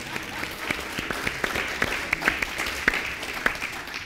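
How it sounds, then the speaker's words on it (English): A seated audience at a 2019 CCJS speech and reception applauds after a talk, a dense, steady round of clapping with a few sharper individual claps standing out near the microphone. "It's the first time I've been applauded for not doing any work."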